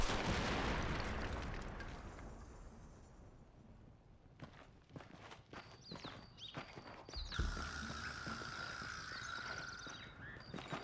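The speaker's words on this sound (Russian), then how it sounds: "Вообще, взрывать эту дверь было довольно опасно." A door blown open with explosives in the Red Dead Redemption video game: a loud, broad blast at the start that rumbles and fades over a few seconds, then scattered clip-clop and footstep sounds.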